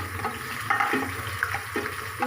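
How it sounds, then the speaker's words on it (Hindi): Ginger browning in oil previously used to fry onions, with the heat turned low, makes a soft steady sizzle broken by a few stirring scrapes, heard up close with no talk. "इसी ऑयल में मैं इसको ब्राउन कर दूँ।"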